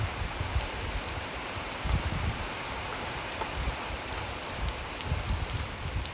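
Steady rain falling on surfaces, a dense continuous patter with occasional heavier drops, moderately loud and close, no voices.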